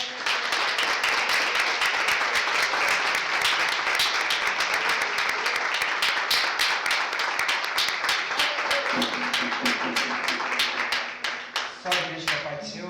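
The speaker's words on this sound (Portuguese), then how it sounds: "Aplauda Jesus." A church congregation at a thanksgiving service claps loudly and steadily, a dense close crowd of hands that thins and tapers near the end as a voice begins speaking.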